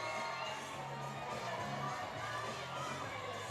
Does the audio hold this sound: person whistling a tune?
no